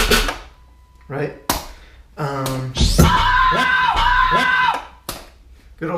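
A shrieking vocal sample is chopped into a remix, with sharp stabs followed by a sustained high cry pulsing over a deep long 808 beat, loud and prominent.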